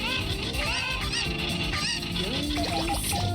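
Bird clucks and honks from Katamari Damacy Reroll, a video game, sounding as short repeated calls over busy game music, steady and fairly loud throughout.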